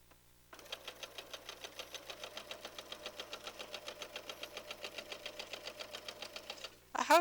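A sewing machine stitches quilt block pieces in one steady, rapid run of regular needle strokes, close and alone, with a brief clatter at the end.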